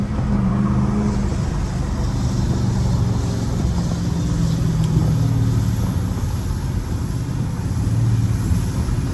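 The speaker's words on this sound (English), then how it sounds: "Give you an exhaust brake." A Chevrolet L5P diesel truck climbing a hill with its exhaust brake engaged gives a steady, loud, low engine drone heard from inside the cab for the whole stretch, with no talking.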